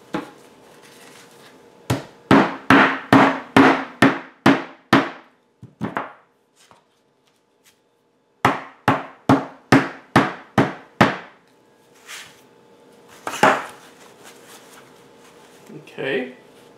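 Sharp, rhythmic hammer blows tap game-box inserts into place, two bursts of about ten strikes each with a short pause between, close and loud, followed by a few scattered knocks and handling noises.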